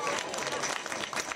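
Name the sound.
audience clapping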